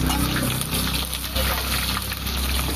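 Sliced onions dropped into hot oil already tempered with cumin seeds, bay leaf and whole garam masala for a katla fish curry, giving a loud, continuous, close sizzling hiss.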